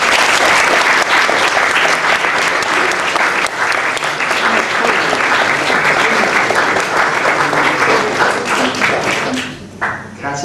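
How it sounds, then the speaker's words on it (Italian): Sustained audience applause at an Italian book presentation for Noemi Ghetti's work on Gramsci, loud, dense and steady for about ten seconds before thinning and fading near the end. "naturalmente l'applauso era l'opera di Noemi Ghetti"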